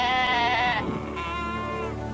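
A goat bleats loudly and close, one long wavering harmonic cry that tapers off, with steady low background noise beneath.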